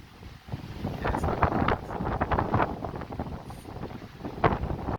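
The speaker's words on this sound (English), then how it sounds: "the wind isn't letting us film" Gusty outdoor wind buffets the microphone, giving uneven rumbling bursts that swell and fade throughout.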